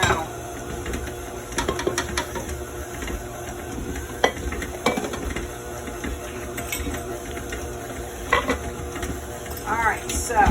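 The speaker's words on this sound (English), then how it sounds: "mixer's doing some work now" Electric mixer beating sugar cookie dough for roll-out cookies, a steady busy whirring and churning with scraping clatter running throughout, fairly close and moderately loud.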